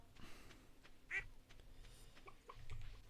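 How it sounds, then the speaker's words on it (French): A duck quacks once in the video game Stardew Valley, quiet against a faint background, with a few softer bird-like calls around it. "C'est vrai les canards, vos gueules."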